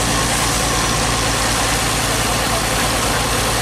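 A motorbike engine idles steadily and loudly close by, a continuous low throbbing rumble with even pulsing throughout, alongside roadwork where sand and stones are being dumped.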